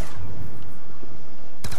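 Rapid bursts of gunfire in Call of Duty Black Ops 2 Zombies, played on the Tranzit map, form a dense crackling spread of shots that cuts off and is followed by one loud sharp blast near the end.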